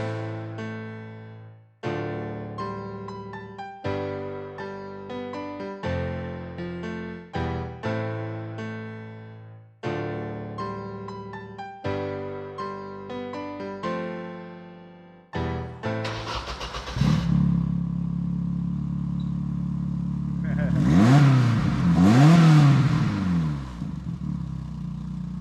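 A four-cylinder car engine with an aftermarket radiator cranks and catches after a stretch of music, then idles loudly and close before two quick rising revs climb and fall back, with no talking over it.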